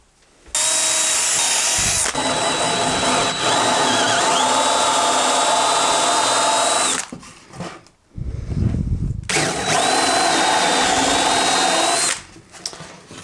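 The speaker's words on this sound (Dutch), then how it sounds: "Ik boor even voor." Power drill boring a pilot hole in a workshop while a diesel heater is being built, two long steady whining runs of several seconds each with a short pause between, loud and close.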